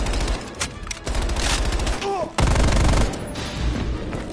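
Loud automatic gunfire and heavy booms from the Call of Duty: Black Ops Cold War campaign come as dense, repeated volleys with a brief lull and a mechanical click partway through, then resume even harder, with some speech mixed in.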